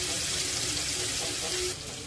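Pieces of jitada fish fry over low heat on a well-heated tawa, giving off a close, steady hiss that holds evenly and then drops slightly in level near the end.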